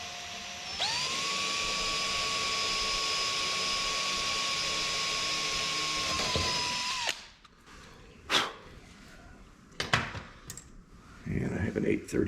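A power drill whines steadily and high for several seconds while boring into the fiberglass body of an FFR MkIV Roadster, then stops, followed by scattered clicks and handling noises nearby.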